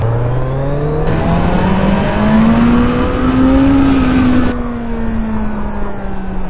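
A Kawasaki Z900 superbike engine runs loud and close while being ridden on a road near the India–Bangladesh border, its pitch climbing through a sustained rev and then easing back down.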